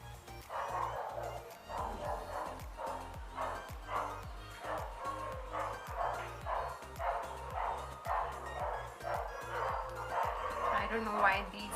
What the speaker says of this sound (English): I don't know why these dogs are barking so much.